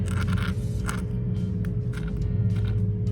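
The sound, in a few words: fingernails scraping rough sandpaper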